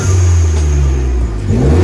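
A Hyundai Genesis 2.0t fitted with an HKS blow-off valve, cheap intake and 3-inch ISR turbo-back exhaust revs loudly up close, a steady droning engine note that dips and climbs again near the end.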